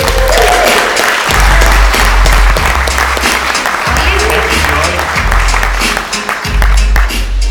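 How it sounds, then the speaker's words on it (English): Audience applause fills a conference hall at a mobile technology industry event, steady and loud for about seven seconds, with a few brief dips. "Wake up and give him a nice round of applause."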